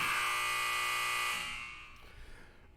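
A buzzer sounds as a loud sustained electronic drone that fades out after about a second and a half, followed by quiet room noise.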